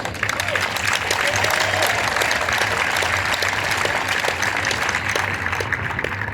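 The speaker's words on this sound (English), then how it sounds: "Let me give him rounds of applause." Steady applause from a crowd at a 5K run and walk event in downtown Columbia, South Carolina, fills the whole stretch, dense and loud without pause.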